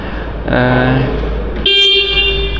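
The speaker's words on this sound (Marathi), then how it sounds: "हॉर्न क्वालिटी देखील" A bright electronic electric-bike horn beeps twice, the first tone lower and the second higher-pitched and sustained, close and loud, with a faint voice around it.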